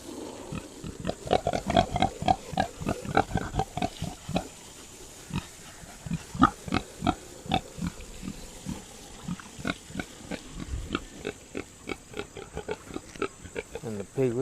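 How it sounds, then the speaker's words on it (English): Newborn piglets scurry about on a farm, giving a steady run of short, rhythmic grunts and oinks, some close and loud. A person talks now and then over the animal sounds. "And the piglets are on the move."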